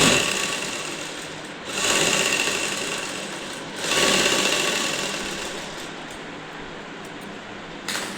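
A sewing machine stitches the side seams and sleeves of a housecoat, running in steady bursts with short pauses between them, close and clear with no talking.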